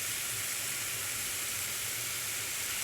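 Chicken pieces frying over medium heat in a skillet make a constant, dense sizzle and hiss, close and steady throughout.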